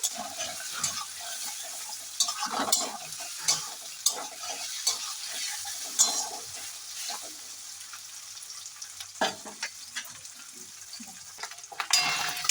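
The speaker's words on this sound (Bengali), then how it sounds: "সুন্দরভাবে পনিরটা আমার ভাজা হয়ে যাচ্ছে" Paneer pieces frying in a kadai, with a steady sizzle under repeated stirring and scraping clatter from the spatula, close and fairly loud, with no talk.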